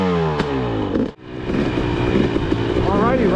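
Dirt bike engine running loud and close, its pitch rising and falling in revs as the rider warms up on a track at an outdoor demo day, with a brief dip before the engine picks back up.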